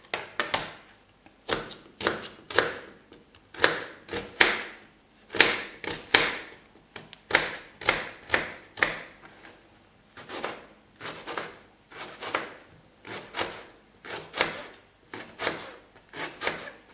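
Onions being chopped with a knife on a cutting board for a potato and milk soup, a steady series of sharp, close wooden knocks in quick bursts with short pauses, no voices.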